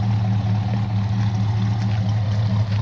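A 1963 Mercury Comet S-22 engine idles steadily while warming up, a loud, even low rumble with no talking.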